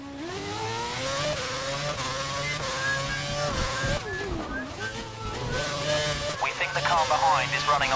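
An F1 2011 video game racing car screams at full revs around Monaco, its high engine note rising and falling with gear changes under constant excited commentary from people talking over it.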